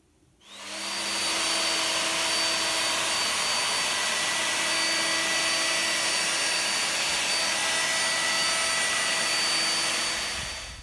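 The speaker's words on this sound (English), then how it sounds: "Jonathan's just set up here for cutting the threaded bars using the Evolution saw that will cut metal." An Evolution metal-cutting saw spins up and runs steadily while cutting threaded bars, a loud continuous high whine holding for about ten seconds before easing off at the end.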